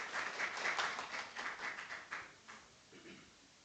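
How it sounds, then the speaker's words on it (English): Lecture audience applauding after a talk on nanomaterials, a faint, distant patter of clapping that holds for about two seconds and then thins and fades out. "A huge round of applause for this."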